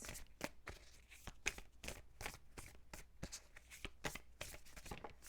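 A tarot deck is shuffled and cards drawn, giving a steady run of crisp, close snapping and riffling ticks in a quick, fairly even rhythm.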